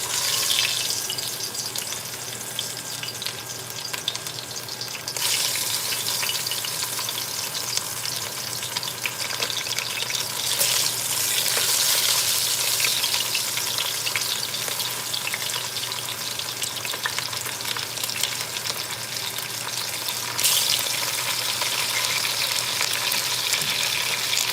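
Beef browns in a Dutch oven for a braise, giving a loud, close, continuous sizzling hiss that swells in brief surges over a long stretch, with no voices.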